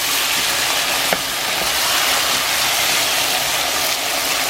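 Pork for sinigang sizzling as it is stirred into sautéed aromatics in a pan, a steady bright frying hiss with a few soft utensil knocks, close and continuous with no talk.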